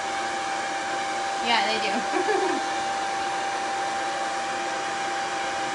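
Heat dryer blowing a steady, loud, even whoosh over chalk paste on a reverse canvas, running continuously the whole time while a voice briefly speaks over it.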